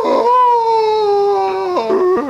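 A person's voice imitates a dog, giving a drawn-out, howling woof that wavers and drops at the end, loud and close.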